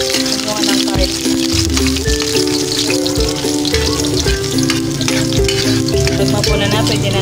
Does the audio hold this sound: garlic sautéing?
yes